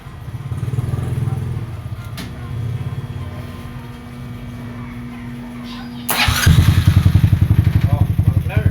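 A Honda XR200 motorcycle engine after a refresh with carburetor and exhaust refitted, cranking and turning over before catching and settling into a loud, close, rhythmic idle.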